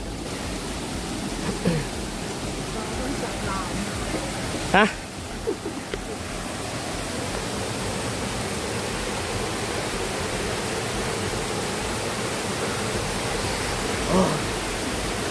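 A waterfall near a cave on a nature trail roars as a loud, constant rush of water throughout, with a few brief faint voices and knocks over it.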